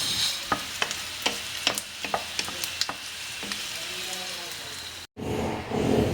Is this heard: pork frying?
yes